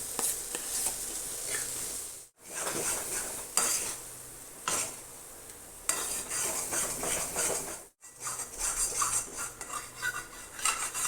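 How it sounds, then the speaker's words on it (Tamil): Moong dal is stirred in a kadai while making Ashoka halwa, with close, repeated scraping and clinking of a spoon against the pan over a soft sizzle, broken by two brief pauses. "பாசிப்பருப்பு இதிலே போட்டுக்கலாம். இதை நல்லா கிளறிக்கலாம்."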